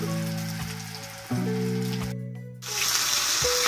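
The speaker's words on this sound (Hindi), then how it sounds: "अभी हम पैटी को फ्राई करना शुरू करते हैं।" Burger patties shallow frying in oil in a frying pan, a steady close crackling sizzle that briefly drops out near the middle, with a low steady hum running underneath.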